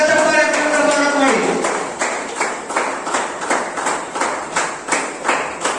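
Audience clapping loudly in welcome at an award felicitation ceremony, a steady rhythmic burst of hand claps with a voice heard briefly at the start.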